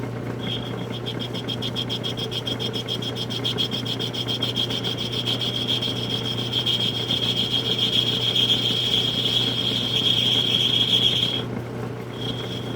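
A small South Bend lathe takes light cleanup cuts on a small metal part, a constant low motor hum under a steady scraping, whining cut tone that runs for about eleven seconds, then stops, with no talk.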